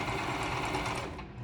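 A sewing machine runs steadily and close up, stitching fabric flags onto Christmas bunting with a continuous whirring drone.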